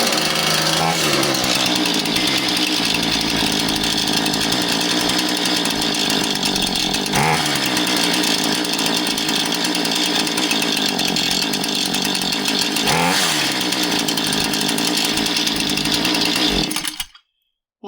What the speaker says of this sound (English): let's run it and see what it acts like